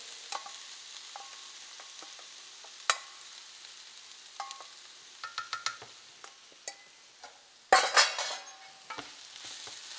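Beef added to a pan of sauteed onion, ginger, garlic and green chilies sizzles softly while a spoon stirs it, with scattered scrapes and clinks against the pan and a louder burst of clatter toward the end.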